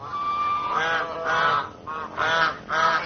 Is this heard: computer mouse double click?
no